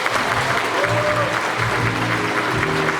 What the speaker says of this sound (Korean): 끝까지 잘해달라고 박수 한번 크게 부탁드립니다.